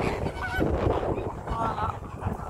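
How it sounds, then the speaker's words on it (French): Geese honking loudly and continuously in a flock at an African wildlife reserve, a dense chorus of overlapping calls close by with light background noise. "On a les oies là en même temps. Ça fait un bruit."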